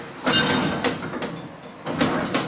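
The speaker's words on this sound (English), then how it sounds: "Doors opening." Elevator doors sliding open on a modded 1980s lift, heard as a few soft rumbling slides with brief clunks, moderately close and with no talking.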